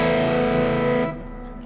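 A single strummed electric guitar chord with a mildly overdriven, gritty crunch tone from a Kemper rings out, then cuts off and fades.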